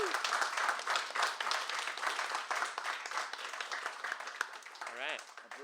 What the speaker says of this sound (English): Everyone, can you give him a round of applause?